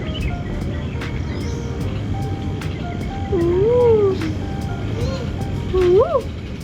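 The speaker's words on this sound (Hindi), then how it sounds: "देखो दोनों को बंदर की आवाज़ सुनी है आपने?" Monkeys call outdoors during a Durga Puja gathering in Chittaranjan Park, Delhi, giving a few rising and falling whooping hoots over a busy crowd and traffic background.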